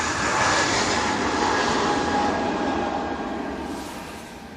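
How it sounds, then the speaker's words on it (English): Departing easyJet Airbus A320neo jet at Manchester Airport on a windy day, bound for Paris Charles de Gaulle: a loud, steady broadband engine roar close by that slowly fades as it pulls away. "EasyJet, next out. Off to Paris Charles de Gaulle Airport using this A320neo."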